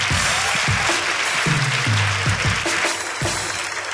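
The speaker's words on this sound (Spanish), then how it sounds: "por favor, fuerte el aplauso" Audience applause at a live Chilean comedy show, a brief burst of claps with mixed crowd noise, loud and close, under a few low voiced sounds.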